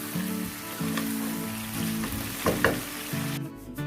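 Onions fry in a hot pan for chicken korma, sizzling and crackling steadily, a soft continuous frying hiss with occasional pops and light stirring sounds.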